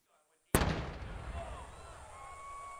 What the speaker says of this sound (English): An explosion and a shriek from spectators